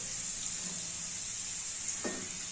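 White peas fry in hot oil with a steady, close hiss, and a single sharper pop or crackle bursts through near the end.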